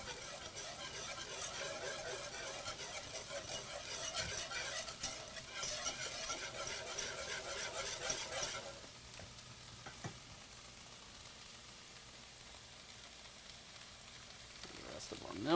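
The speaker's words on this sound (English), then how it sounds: "whisk the rest of this in" Milk is whisked into a hot pan for garden lasagna, making a brisk, rhythmic scraping sizzle that runs for about eight seconds and then drops to a quiet simmer with a few faint clinks.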